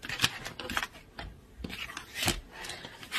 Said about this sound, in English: I really have trouble shuffling this deck